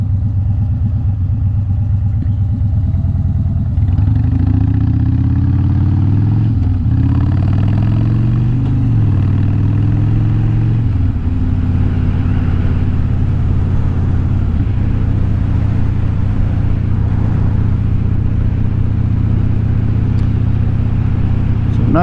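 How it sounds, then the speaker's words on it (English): A car's exhaust rumbles at a deep, steady idle, with a couple of revs that rise and fall during a ride and then a return to a constant low drone. The sound is close and loud and lasts throughout. "How can you not like that exhaust?"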